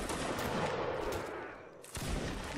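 Musket volleys crackle in a multiplayer Napoleonic-style line battle, with a dense burst of overlapping shots that fades and then a fresh loud volley near the end.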